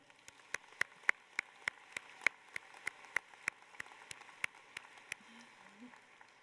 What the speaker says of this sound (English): Let's give a round of applause to Nathan.